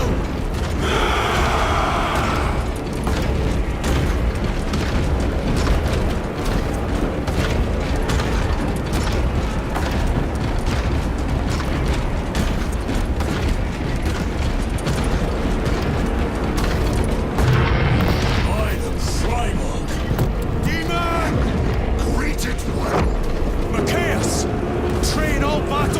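Artillery fire and explosions on a Warhammer battlefield in Space Marine 2: continuous heavy booms, mechanical rumble and blasts rolling together under shouted orders and game dialogue.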